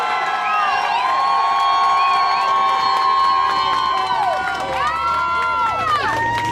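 A protest crowd on a New York City street during an October 2023 Free Palestine demonstration, loud shouting and whooping voices rising and falling together over a constant busy background, with little distinct clapping.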